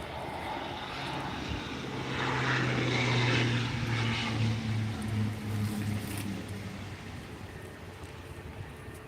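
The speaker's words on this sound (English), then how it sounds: "Oh, there's a King Air just landing." A Beechcraft King Air turboprop lands at hazy Tenerife airport, its propeller drone swelling to a steady hum with a sustained tonal whine before fading into the distance, heard alone over outdoor ambience.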